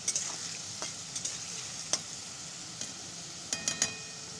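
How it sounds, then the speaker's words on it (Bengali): Potatoes frying in a pan with oil, stirred now and then, giving a steady soft sizzle broken by sharp scraping clicks of the spoon against the pan, close up with no voices. "তো আলুগুলো ভাজা হোক।"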